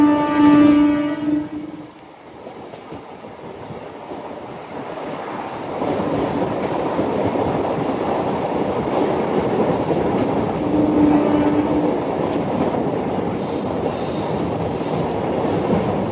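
A MEMU passenger train runs onto the road-cum-rail bridge over the Godavari near Rajahmundry: a sustained, loud rumble of wheels and carriages, with a brief high squeal at the start and another midway, steady throughout.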